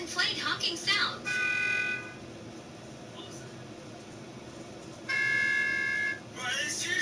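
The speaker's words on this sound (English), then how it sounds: "I put a speaker in my friend's trunk and played honking sounds" Car horn honks played from a speaker hidden in a car trunk, two sustained bursts of tonal honking over road and cabin noise, with indistinct voices around them.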